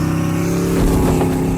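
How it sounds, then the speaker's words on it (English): The General Lee car drives fast with a loud, close engine roar that holds steady and then surges briefly in a short burst. "Today I'm going to be driving my world's fastest General Lee until I get pulled over."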